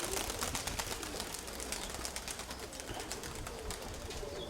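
Pigeons in a loft, stirred up by a keeper, coo steadily in a dense chorus with brief rustling, filling the space at a constant level with no talk.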